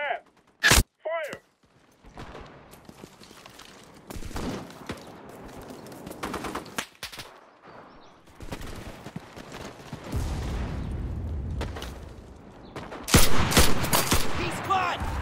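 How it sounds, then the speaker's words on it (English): Artillery barrage and gunfire in the World War II shooter Enlisted during a Pacific War cave battle: loud bursts of shots, scattered blasts and rumbling explosions across the clip, with brief shouted voices at the start. "We need artillery support! Roger that! Fire!"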